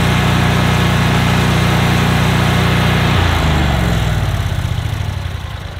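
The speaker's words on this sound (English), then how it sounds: "I'm gonna go ahead and just turn the engine off." A Wright ZK autonomous robot mower's engine runs with a loud, close, steady hum, then shuts off partway through, its pitch dropping and the sound fading as the engine winds down.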